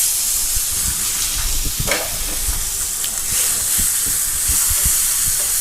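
King prawns dropped into a hot frying pan, loud continuous sizzling and hiss with stirring clatter throughout, no voices.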